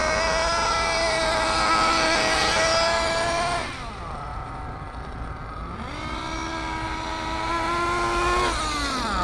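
A Reedy 121-VR nitro engine in an RC8T buggy runs during break-in, a loud, steady buzzing whine that drops in pitch for a couple of seconds while throttled back, then climbs again.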